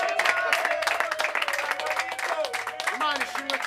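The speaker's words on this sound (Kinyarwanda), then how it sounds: "Mu nyemerere dukoma amashyi dushime Imana." An audience applauds and claps at a Rwandan comedy gathering, with loud, dense clapping running throughout, mixed with voices and overlapping talk.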